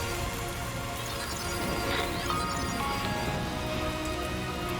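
Rain falls in Death Stranding 2 as a steady, even patter across surfaces, soft and continuous throughout with no voices.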